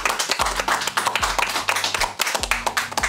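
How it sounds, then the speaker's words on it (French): An audience applauds in a French talk-show studio: dense, even hand clapping from many people, lively and fairly close, sustained for the whole stretch with no speech over it. "On peut applaudir."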